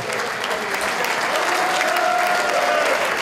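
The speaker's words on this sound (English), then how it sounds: "We have a massive round of applause, please, for Mr. Phil Downey" An audience at an LFC Legends 40th anniversary event applauds Phil Downey, a loud, sustained round of clapping with a faint tone humming underneath.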